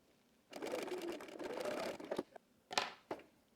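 A home sewing machine running a narrow zigzag stitch on dress fabric hums in a steady buzzing burst of about one and a half seconds, followed by a few short clicks and mechanical clacks as it stops, close and moderately loud.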